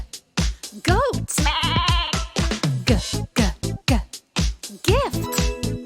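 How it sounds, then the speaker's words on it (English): A goat bleats in a children's preschool learning program, giving several wavering cries among bouncy music and short voice-like bursts. "Goat."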